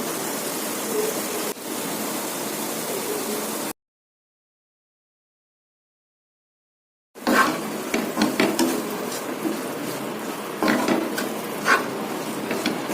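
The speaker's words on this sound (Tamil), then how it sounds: "நல்லா பரட்டி விடலாம்" Ground coconut paste is stirred and tossed into cooked long beans in a pan, giving a scraping, clattering utensil noise over a steady hiss of background noise, with a silent gap partway through and no voices.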